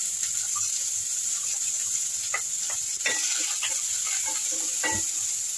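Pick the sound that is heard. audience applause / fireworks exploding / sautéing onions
sautéing onions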